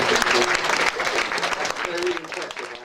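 Audience applause at a gathering, a short burst of clapping that fades toward the end, with some voices mixed in.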